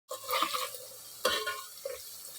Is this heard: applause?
no